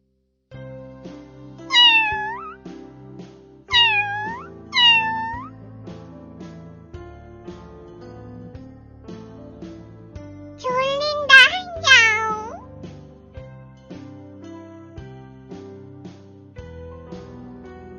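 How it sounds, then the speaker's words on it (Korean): A cat meows several times in short bursts, then gives a longer, louder run of meows over soft background music. "어른 고양이란다"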